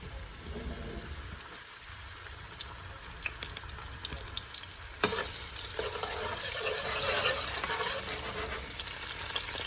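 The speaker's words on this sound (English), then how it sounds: "You just want to saute your vegetables, you know, so they become translucent" Vegetables and garlic sautéing in oil for steamed cabbage and saltfish. A quiet sizzle with stirring scrapes swells into a louder, brighter frying hiss halfway through, heard close with no speech.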